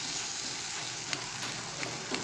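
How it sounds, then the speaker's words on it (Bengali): Taro leaves and fish head fry in a covered pan with a steady, faint sizzle. A few soft ticks and pops come through the hiss, and nobody speaks. "এইভাবে ঢেকে ঢেকে আমরা এটাকে একটু করে ফ্রাই করব"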